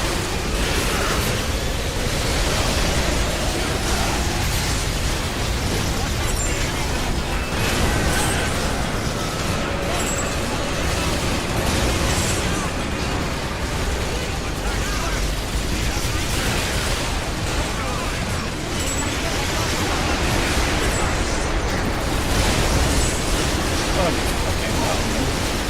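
Explosions in the Earth Defense Force 6 video game as anti-aircraft artillery is hit: a dense, continuous roar of blasts and crackling debris that stays loud throughout, with talking mixed in.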